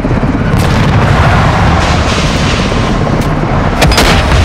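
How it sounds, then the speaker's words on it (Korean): A bomb explosion in a combat video game gives a loud, dense roar that stays sustained throughout, with a few sharp crackling bursts near the end, close and alone. "폭발 확인!"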